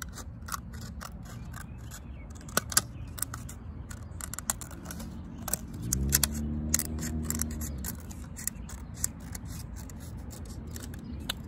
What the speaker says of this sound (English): it probably works better with smaller scissors, and then I'm gonna cut off the bottom